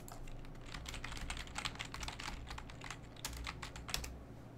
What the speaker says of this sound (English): Let me just type this in here.